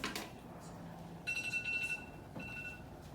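A classroom timer gives off a high electronic beeping that starts partway through, pauses briefly, then resumes, sounding moderately loud with faint voices and room noise around it.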